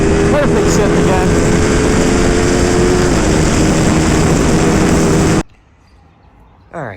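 Ducati Panigale V2 with a Vandemon full exhaust, loud and close, roaring steadily at high revs before the engine note drops sharply on a gear change and then picks up again.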